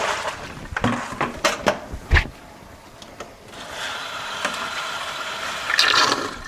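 Soak water from sunflower seeds poured out of a bucket, a splashing gush after a few clunks and knocks of the bucket, then a steady pouring wash that swells toward the end.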